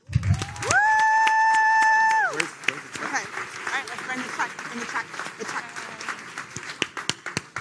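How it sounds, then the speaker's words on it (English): A conference audience claps steadily with scattered cheers, following a loud sustained electronic tone at the start; the applause fades to lighter clapping. "let's give everyone here another round of applause"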